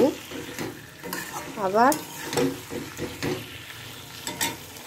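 Potatoes stirred in a pot for biryani, with scraping, clattering stir strokes over a light sizzle, fairly close, plus a brief spoken word.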